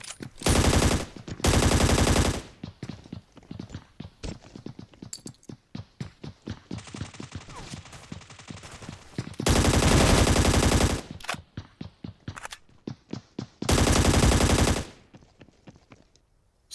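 Automatic gunfire in a battle royale mobile game, with loud sustained bursts of rapid fire breaking in several times between quieter stretches of single shots and clicking.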